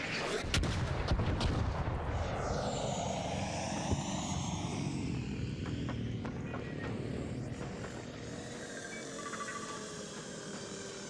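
Heavy artillery bombardment in the video game ARC Raiders: repeated deep booms and rumbling blasts over a sustained roar of explosions, loud and continuous, with no talking.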